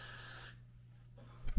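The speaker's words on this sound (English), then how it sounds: "I spray with my Got To Be spray" A can of Got To Be hair spray hisses in one steady burst over freshly braided hair, close and fairly soft, followed by silence and a light thump at the end.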